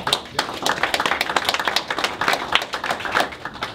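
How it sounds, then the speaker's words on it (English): Audience applause for a mayor's announcement, lively rhythmic clapping from a smallish group with distinct individual hand claps, fairly close and steady. "Doesn't that deserve a round of applause?"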